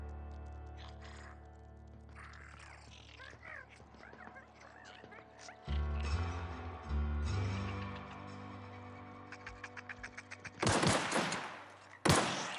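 Gunfire in the video game The Outer Worlds on PS4: rapid bursts of shots and automatic fire come in clusters toward the end, over game background sounds and occasional voices.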